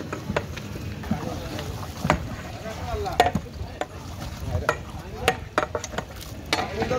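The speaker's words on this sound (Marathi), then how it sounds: "तिकडे चिकन शिजतोय." Chicken cooks in a large pot for an Agri haldi wedding feast, with scraping stirs, metal clanks and a faint sizzle amid bustling background noise.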